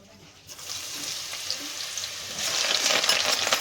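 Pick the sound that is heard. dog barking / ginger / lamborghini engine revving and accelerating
ginger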